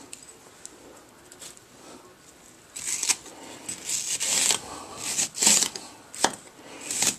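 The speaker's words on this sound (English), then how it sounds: "Next we're going to coarsely cut up a couple onions." A knife coarsely chops onions on a board for a fish fry, with a run of irregular, crisp cutting taps that grows louder and busier partway through.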